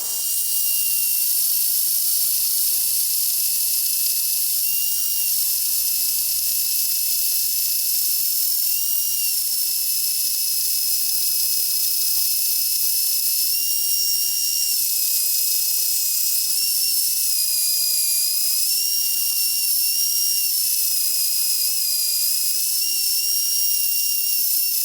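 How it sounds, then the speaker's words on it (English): Small bandsaw cutting a metal shop crane part, a steady loud high-pitched whine with a singing blade tone that wavers slightly over a continuous hiss, running alone without pauses. "And then we'll cut the clearance also with the small bandsaw."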